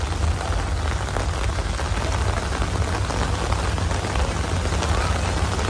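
Heavy rain pours steadily behind a rural house in Thailand, a dense, constant hiss and patter of drops on surfaces, loud and unbroken throughout with no pauses.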